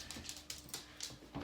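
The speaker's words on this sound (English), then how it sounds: "What you growling at?" A dog whimpers and grumbles softly close by in a short run of quiet, uneven whines and low growls.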